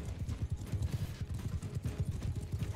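Steady clip-clop of horse hooves in Mount & Blade II: Bannerlord, a quick, even galloping rhythm at moderate volume with no other sounds over it.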